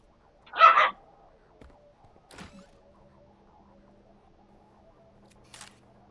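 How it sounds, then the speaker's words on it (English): Dogs barking indoors: one sharp, close bark stands out, followed by a couple of fainter, softer yips in an otherwise quiet room. "Ignore my dogs."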